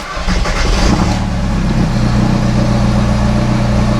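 A Volkswagen Jetta ALH engine with a newly replaced camshaft cranks and catches, then settles into a steady low idle rumble, close and loud with no talking.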